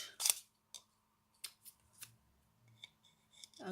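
Scissors snip ribbon for a bow on a handmade Christmas card, a few sharp quiet clicks and cuts spaced irregularly over soft handling noise.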